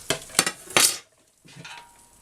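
A rust-removal solution is stirred with warm water in a container: three quick scraping, splashing strokes, then a pause and a softer swirl, close and moderately loud.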